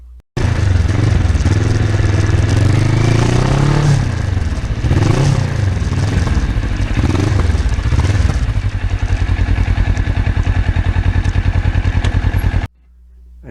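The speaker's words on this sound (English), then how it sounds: "every time I ride it, I just can't imagine how it could be a lot more fun than this." Kawasaki Ninja motorcycle, 17 years old with 40,000 miles and a custom black and gold paint restoration, engine running loud and close with a steady throbbing idle and a few revs that rise and fall, then cutting off.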